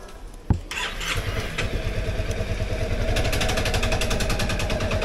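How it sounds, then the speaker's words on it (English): A Honda Forza 250 scooter engine cranks with a sharp starter click, catches and settles into a steady, close idle that grows slightly louder and rougher. "So for proper gear setting, we are going to start the engine,"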